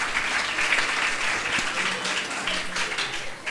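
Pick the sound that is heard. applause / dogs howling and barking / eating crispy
applause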